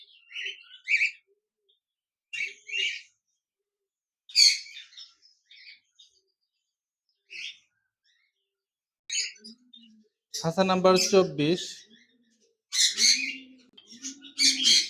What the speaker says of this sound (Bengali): এক পিস গ্রে কোকাটেল পাখি রয়েছে, রানিং।